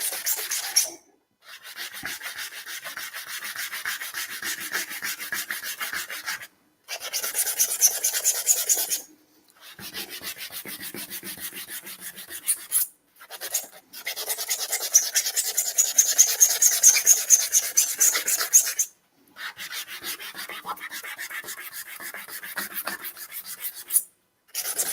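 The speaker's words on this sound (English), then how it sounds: "that's why one of the reasons it's important to sand with the grain" Lacquered wood, finished in ivory lacquer, is rubbed by hand with sandpaper along the grain: close, dry rasping strokes come in several long bursts separated by short pauses, with no talking.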